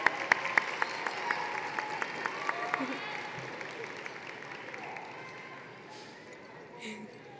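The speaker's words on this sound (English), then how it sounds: "applaud the special people in your life who have supported you thus far" Graduates clap for their parents and families at a high school commencement ceremony, steady applause spread through a large crowd. A few sharp claps come first, then the applause settles and slowly thins toward the end. A voice is heard briefly.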